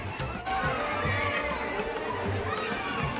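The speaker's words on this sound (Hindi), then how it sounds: "बहुत ज़्यादा श्रद्धालुओं की नए श्याम कुंड पर भीड़ हो चुकी है" Large crowd of pilgrims at Shyam Kund near the Khatu Shyam temple in Rajasthan, with dense overlapping chatter, shouting and footsteps from many people close by, a continuous bustling murmur.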